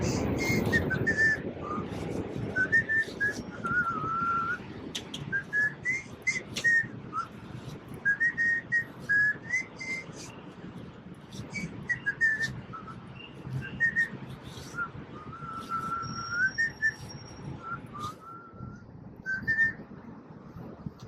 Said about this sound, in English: I can whistle and pedal, as you can tell.